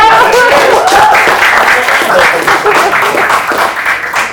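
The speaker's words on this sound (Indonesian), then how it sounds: "tepuk tangan" A studio audience applauds on an Indonesian talk show with police officers as guests. Loud, close clapping swells at first and then thins and fades over about four seconds.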